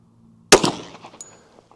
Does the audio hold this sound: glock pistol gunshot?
yes